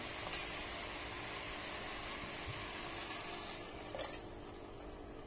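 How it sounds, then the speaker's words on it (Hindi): Water poured into a pressure cooker of potato and cauliflower curry with spices, a steady soft rushing pour at moderate distance, with no talking. "अब इसमें आप पानी डाल दीजिए।"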